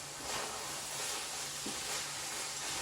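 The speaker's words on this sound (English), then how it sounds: "We're sizzling now." Ground beef sizzles in a pan with a steady, soft hiss that stays even throughout.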